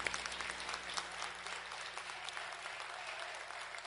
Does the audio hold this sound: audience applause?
yes